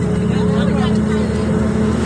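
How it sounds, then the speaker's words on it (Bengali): A fishing boat's motor drones loud and steady at close range out on the water, an unbroken engine hum with no break across the short stretch. "মাছ ধরার নৌকা, এগুলো মাছ ধরা।"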